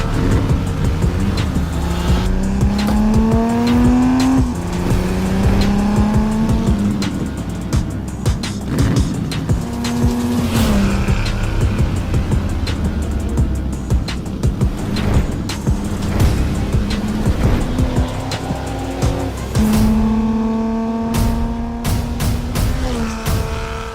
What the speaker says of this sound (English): So that is a 1962 Ferrari 250 GTO.